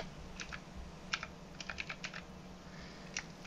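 Keys tapped on a computer keyboard while entering a console command in Borderlands 2: scattered light clicks in short irregular bursts, close and fairly quiet, with no voices.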